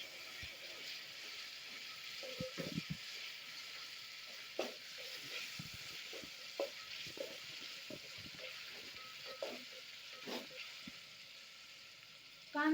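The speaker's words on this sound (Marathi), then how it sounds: "कांदा आपण लाल करून घेऊ आता." Onions frying in a pan with peppercorns and cloves, a steady low sizzle running throughout with scattered stirring clicks and scrapes, fairly quiet and close, ending in a louder knock.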